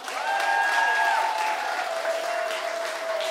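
An audience at a live show in Ľubianka applauds loudly and steadily to welcome the performers, a dense continuous clapping that tapers slightly, with a sustained musical tone underneath.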